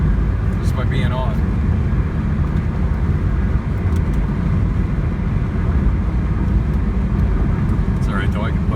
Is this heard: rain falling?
no